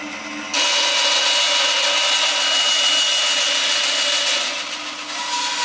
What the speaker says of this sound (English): Just going to put a little notch in here where my mark is.